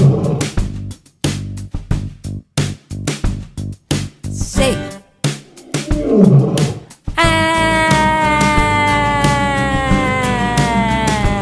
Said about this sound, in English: Stop, what's that sound? A lion?